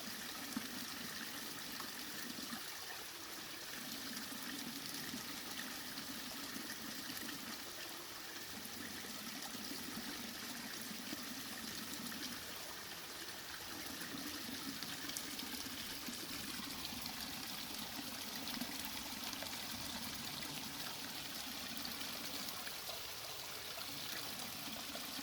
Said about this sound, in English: we gather in a dirty bag and let it go down through the Sawyer into a clean bag